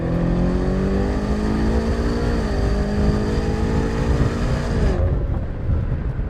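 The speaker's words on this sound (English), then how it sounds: "I'm going to put it in M mode. I'm going to floor it" A BMW M5 CS sedan in M mode accelerates hard at full throttle, its engine note climbing steadily with a brief dip at a gear change before rising again, loud and close from inside the cabin, then cutting off abruptly.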